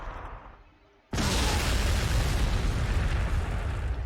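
Frag grenade blasts in Warhammer 40,000: Sanctus Reach erupt suddenly after a quiet moment, a loud booming burst that rolls on into sustained rumbling debris.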